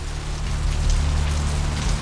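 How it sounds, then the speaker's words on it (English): Steady rain falls in the Santa Monica area of the game Vampire: The Masquerade Bloodlines, a dense continuous patter with a low rumble beneath it and no voices. "This rain is the pungent sewage of hell seeping into the cracks of this putrid purgatory."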